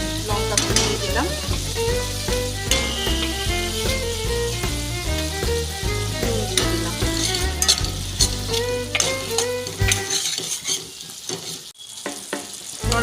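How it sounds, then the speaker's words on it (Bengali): Chillies sautéing in a pan for idli shakshuka: loud continuous frying sizzle with busy, rhythmic stirring clinks and scrapes throughout, easing briefly toward the end. "এটা ভালো করে কষিয়ে নেব। লঙ্কা দিয়ে দিলাম"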